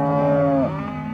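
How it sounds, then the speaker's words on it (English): Cattle moo in one sustained, loud, close call that fades into a softer tail after about half a second, with no other sounds around it. "They look like everyday cows."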